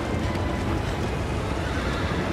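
A horse neighing in the video game Shadow of the Colossus: a loud, dense whinny over a continuous wash of game noise, with hoof clatter and no clear speech.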